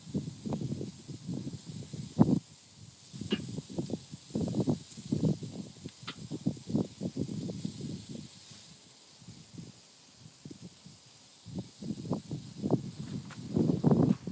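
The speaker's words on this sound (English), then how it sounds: "Just going to give one more direct grilling right over the coals." Andouille sausage sizzles directly over hot charcoal coals on a grill, giving a steady spitting, crackling hiss with bursts of fat popping that rise and fall, close by and fairly loud.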